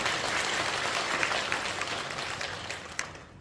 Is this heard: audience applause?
yes